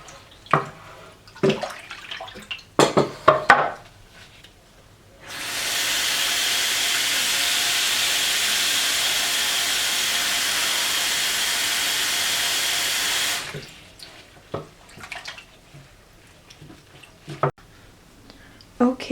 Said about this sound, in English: I'm just going to wash this gently because this is a mixed fiber yarn